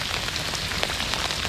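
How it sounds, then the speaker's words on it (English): Heavy rain pours steadily onto water on a cold February day, a dense, even hiss of drops close by with no voices. "Heavy rain."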